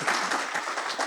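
Audience at a Toastmasters event applauds steadily, a soft, even patter of many hands clapping at a moderate distance, continuous through the short stretch without voices over it.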